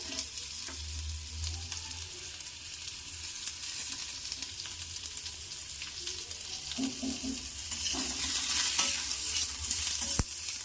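Garlic and onion fry in a pan for a saap une saak dish, a steady close sizzle that brightens and thickens toward the end, with a few soft stirring knocks.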